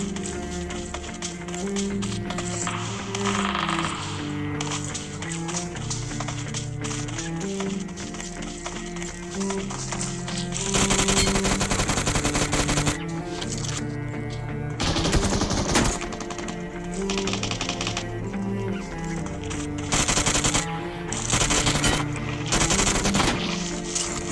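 Gunfire in the battle-royale game PUBG Mobile, with bursts of automatic fire crackling in several rapid volleys over a steady layer of music, louder clusters arriving around the middle and near the end.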